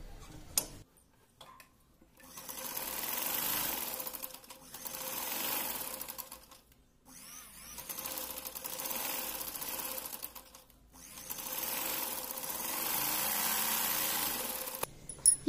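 A sewing machine stitches an old saree into a long gown, running in four steady bursts of rapid mechanical ticking separated by short pauses, close and clear with no talking.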